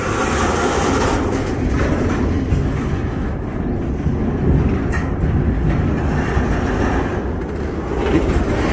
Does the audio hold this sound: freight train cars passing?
yes